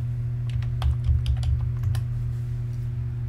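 Quick, crisp keystrokes on a computer keyboard, close and clear over a steady low electrical hum, in a short irregular burst of typing with no voices.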